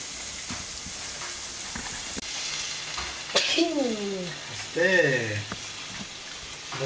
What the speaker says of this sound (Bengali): মাছগুলো একটু কষাতে দিয়ে দিয়ে